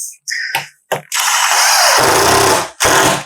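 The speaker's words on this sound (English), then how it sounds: "These are self-tapping screws, so I don't have to pre-drill the holes to get them to go in there" A power drill whirs in a few short bursts, then runs longer as it drives a self-tapping screw into a table frame without pre-drilling, close and loud, ending with one more brief burst.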